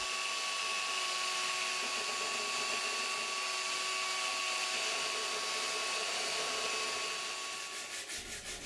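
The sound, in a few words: belt sander sanding glass fiber and epoxy kayak coaming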